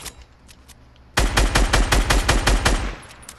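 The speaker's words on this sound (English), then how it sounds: "Just shooting at the base, just to see if they get a reaction out of them." Rapid automatic gunfire in the video game Fortnite, aimed at an enemy base: after a quiet second, a loud, fast burst of about a dozen evenly spaced shots rattles on for two seconds and then trails off.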